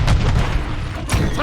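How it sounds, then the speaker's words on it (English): A Semtex grenade blast in Modern Warfare 3 war mode, a dense low boom rumbling through the whole short burst with a second thump near the end, loud and close amid chaotic battle noise. "Semtex! Grenade!"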